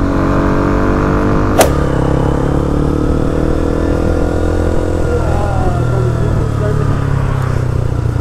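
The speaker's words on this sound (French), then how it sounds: "Moto, hein." A motorcycle engine passing on a street, a steady buzzing drone with a shifting pitch that rises and falls as it goes by, fairly close, with a brief sharp click early on.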